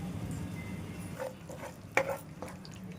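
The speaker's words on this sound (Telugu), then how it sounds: "ఒక స్పూను ఆవాలు వేసుకుందామండి. ఒక స్పూను జీలకర్ర వేసుకుందామండి. వేసుకుని పోపు చెట్పెట్టలాడేంత వరకు వేయించుకుందామండి." Mustard and cumin seeds sizzle in hot oil, a soft continuous crackle close by, with a few faint pops and one sharper clink of a utensil against the pan.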